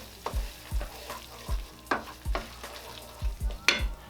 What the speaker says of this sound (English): we just want to let our cream cheese melt.